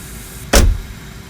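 An aircraft cabin door in a CRJ200 flight simulator soundpack closes with a single loud thud. The hit has a bright, heavy onset and a short rumbling decay over a quiet cabin hum.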